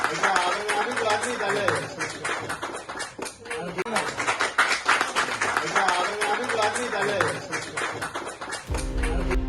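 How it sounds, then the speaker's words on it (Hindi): Traders clapping at a municipal corporation office, a busy stretch of scattered hand claps with voices talking over them throughout. "तालियां भी बजाई।"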